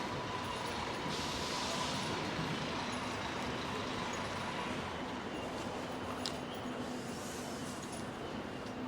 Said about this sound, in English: we start to pick up these noisy buses